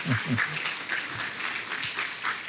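A church congregation applauds during a sermon, with a steady wash of many hands clapping throughout and a low voice briefly heard beneath it at the start.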